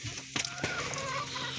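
Backyard chickens cluck close by in a short burst of soft, irregular clucks and murmurs, with a couple of sharper knocks mixed in.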